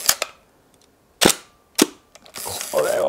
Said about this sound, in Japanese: これがハッセルブラッドの音です。